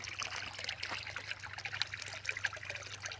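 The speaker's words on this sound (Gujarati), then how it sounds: "એક્સ્ટ્રા પાણી જાય છે થોડું થોડું તલાવડીમાં" Surplus water trickles steadily into a small pond, a soft continuous dribbling and babbling with faint splashy detail, quiet and close, with no speech.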